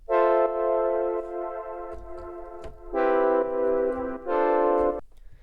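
Widened synth pads with ducking, sustained rich chords that swell in and cut off in three pulses, separated by brief gaps carrying faint clicks, fairly loud and alone.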